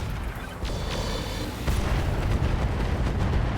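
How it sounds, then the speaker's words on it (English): A Gauss rifle blows up in RogueTech, a BattleTech mech combat game, a deep rumbling explosion with booming low-end impacts that swell louder partway through and keep roaring to the end, with no talking. "A Gauss rifle explosion there."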